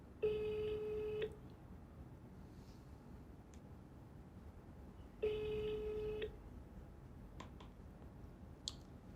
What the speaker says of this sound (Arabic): طب خلاص هكلمها بقى، هيبقى رومينج